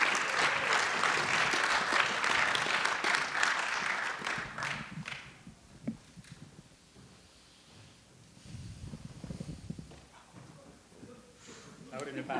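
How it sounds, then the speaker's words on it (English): Warm audience applause welcoming candidates to the stage at a city debate hosted by a chamber of commerce in Moab, loud dense clapping that fades out within about five seconds, followed by quieter room sounds and murmured talk. "Please join me in a warm round of applause to welcome our candidates to the stage."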